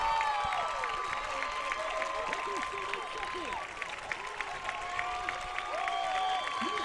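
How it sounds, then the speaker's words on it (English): Stadium crowd at a track meet, the 2015 Sir Walter Miler, cheering and clapping steadily through the closing stretch of a women's mile race, with a commentator's voice running over the noise. "Crowd's getting excited."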